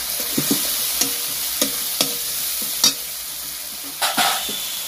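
Ground cumin, turmeric and coriander being sautéed and stirred in a pan for Latha fish curry, a steady sizzle with sharp scraping and clinking strokes at irregular intervals, close and fairly loud.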